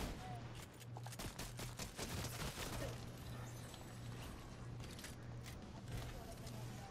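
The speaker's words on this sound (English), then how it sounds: "I'm getting shot at." Gunfire in Fortnite squads play, a busy burst of rapid shots and crackling volleys under steady background tones, with players talking over the action.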